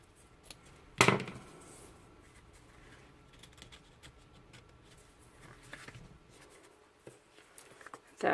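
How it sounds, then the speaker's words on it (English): Scissors snip the ends of a ribbon on a handmade card kit: a sharp close cut followed by quiet light handling and a few faint clicks. "Trim those ends at an angle."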